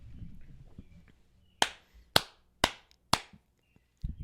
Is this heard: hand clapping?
yes